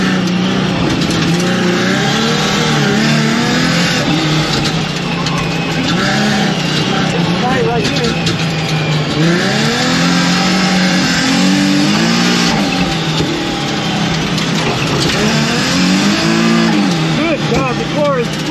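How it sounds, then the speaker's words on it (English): A modified car at an autocross event accelerating hard and spinning its tires, the engine revving up and down in repeated loud sweeps close by, with a person talking over it in places. "Good God, the car is literally just lighting up the tires."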